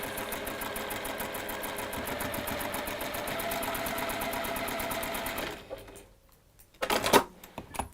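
A domestic sewing machine stitches fabric bunting in a long, even run of rapid clattering needle strokes, close and steady for about five seconds, then stops, followed by a brief rustle of handling.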